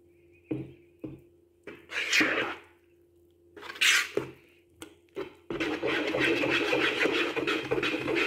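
Yeast dough made with milk being kneaded by hand, giving intermittent squishy slaps and scrapes close up, followed by a steady rougher rubbing texture toward the end.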